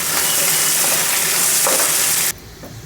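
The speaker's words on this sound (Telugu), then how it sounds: "లవంగం యాలకి దాల్చిన చెక్క ఉడి వేసుకోండి ఆనియన్స్ ఆనియన్స్ వేగనివ్వాలి" Onions fry with cloves, cardamom and cinnamon for a peas biryani, making a loud, dense sizzle that holds steady and then drops suddenly to a faint hiss near the end.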